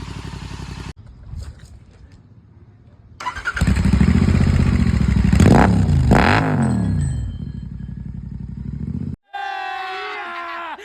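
A GT 650 motorcycle fitted with a Red Rooster Performance exhaust rumbles at idle, then revs up loudly with rising and falling engine pitch up close, followed by a brief musical sting at the end.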